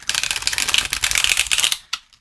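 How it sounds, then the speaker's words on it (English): A tarot card deck is shuffled in a steady, rapid riffle of crisp card flutters, close and loud, ending with a brief tap before falling silent. "it's a lovely, lovely shuffle"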